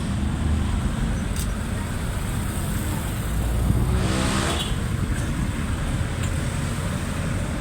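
Road traffic flows steadily around a morning ride toward a public market, a continuous wash of car and motor noise with one vehicle swelling closer partway through.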